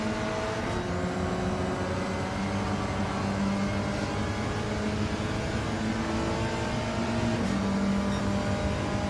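Engine of a Group 4 Volkswagen Beetle race car in Gran Turismo 7, a continuous loud drone with shifting revs and gear changes, held steady throughout with no talking.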